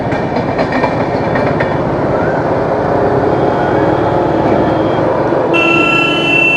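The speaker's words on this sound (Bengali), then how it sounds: "ভাই সাবাস, ট্রেন যাচ্ছে।" A train crosses the Farakka bridge with a steady, loud rumbling clatter of wheels on rails that continues throughout, and a higher tone briefly joins near the end.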